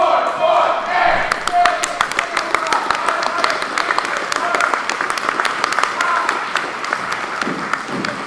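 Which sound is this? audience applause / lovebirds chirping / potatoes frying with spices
audience applause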